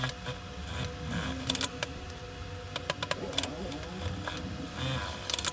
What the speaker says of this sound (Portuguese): E agora eu vou fazer uma costura aqui com um pé de máquina, dos dois lados.